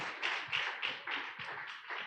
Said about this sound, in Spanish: Démosle un aplauso a los que nos visitan